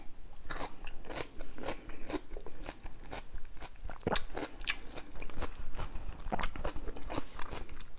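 Close, loud crunching bites and wet chewing of a boiled onion from a seafood boil with sauce, a steady run of crisp crunches over eight seconds with no talk.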